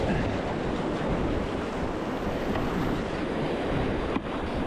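River rapids on a packrafting trip near Mt Kosciuszko: a steady, dense roar of rushing water filling the whole clip, loud and close without a break.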